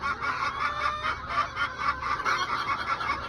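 Several chickens and chicks cluck and squawk continuously at close range, with a young rooster's rough, honking calls mixed in.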